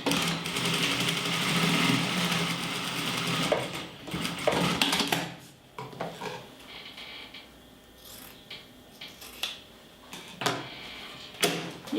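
A sewing machine stitches a seam joining structured fabric for a zippered pouch, first with a steady rapid whir for several seconds, then in short stop-start bursts with gaps of handling noise.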